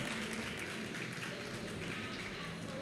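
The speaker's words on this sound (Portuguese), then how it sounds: "Uma salva de palmas para o Alex." A Campus Party audience applauds a speaker on the Petrobras stage, a continuous, moderately distant wash of clapping with no talk over it.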